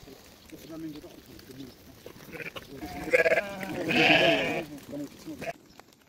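Sheep bleating on a village farm, a few calls rising in the middle of the stretch and mixed with people talking and general farmyard activity nearby.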